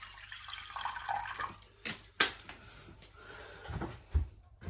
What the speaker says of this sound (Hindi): ये हमने पानी डाला